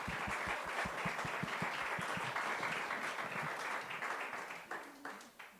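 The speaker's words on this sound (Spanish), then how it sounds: "sí, podemos aplaudir" A church audience breaks into applause, many hands clapping close and lively, with a few distinct low thumps early on, tapering off near the end.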